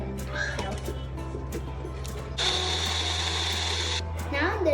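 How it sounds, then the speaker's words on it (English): An electric kitchen blender whirs steadily as it blends strawberries and yogurt into a shake, a loud continuous motor drone that starts partway through and runs over background room noise and faint voices. "Now I have the blender with me."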